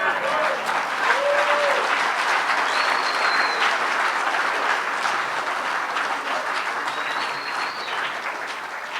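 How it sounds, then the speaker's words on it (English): An audience claps steadily and loudly at a live show, with sustained applause filling the whole stretch and a few faint voices underneath. "let's give Carl another round of applause"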